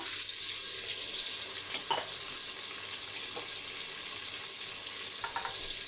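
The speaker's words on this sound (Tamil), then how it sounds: "மூணு வெங்காயம் நல்லா நீட்டு வாகலை கட் பண்ணி வெங்காயம் வதங்கட்டும்" Three long-sliced large onions sautéing in a pan, producing a steady close sizzle with a few brief stirring scrapes.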